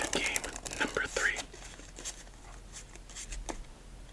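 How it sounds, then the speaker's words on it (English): Sparrow Hanafuda cards shuffled by hand in a series of soft crisp riffling taps and flutters, close and quiet, with faint whispery voice traces. "one more shuffle and we'll do game number 3."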